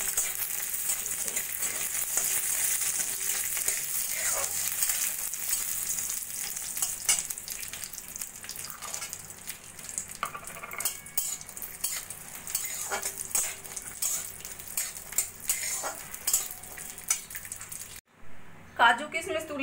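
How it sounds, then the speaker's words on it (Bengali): Cashews and raisins fry in a spoonful of ghee in a kadai for coconut halwa, a continuous close sizzle with spoon scrapes and clinks against the pan throughout, then a brief break near the end. "কাজু আর কিশমিশগুলো একটু ভেজে নেব।"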